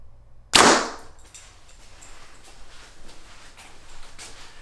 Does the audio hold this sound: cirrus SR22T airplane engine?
no